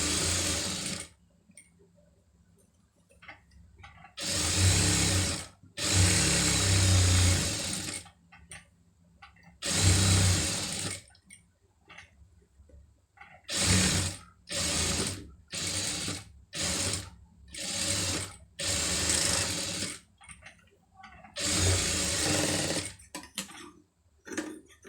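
A tailor's sewing machine stitches around a star-shaped neckline, whirring in about ten loud, close bursts of varying length separated by short pauses, with no talk.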